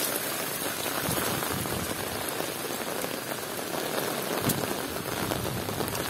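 A heavy downpour of tropical-style rain in Temryuk, Krasnodar region, with a dense, roaring hiss of drops pounding nearby surfaces, steady and loud from start to finish with no talking.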